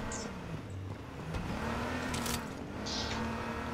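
A quad bike engine in the video game H1Z1 revs and whirs, rising and falling in pitch with a couple of brief bright bursts, heard alone at moderate level.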